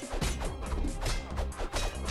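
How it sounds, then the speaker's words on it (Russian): Repeated heavy crashes and thwacks strike a door in the side-scrolling brawler Castle Crashers, a busy, loud run of impacts at an uneven rhythm with no voices over them. "Нам дверь надо разбить, что ли?"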